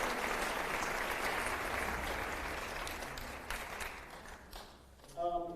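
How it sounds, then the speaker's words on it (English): An audience at the Chicago Latino Film Festival opening night applauds loudly, steady clapping that gradually fades, followed by a voice beginning to speak at the end. "Please, a round of support of applause for our media sponsors."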